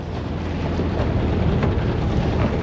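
Strong wind buffeting the microphone while unmooring a boat near Stockholm, a loud, steady low rumble of gusts throughout with no talk.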